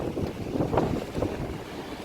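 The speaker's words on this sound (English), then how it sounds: "the wind is like, feels like a tornado" Strong gusting wind buffets the microphone outdoors on a cold, stormy day, a steady roar with louder surges, heard alone without voices.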